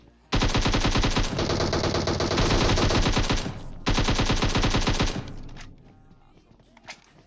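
Automatic gunfire in PUBG Mobile during a peek-and-fire play, heard as loud, rapid, sustained bursts of shots, one long stream followed by a second burst after a brief break, then fading to a few scattered sounds.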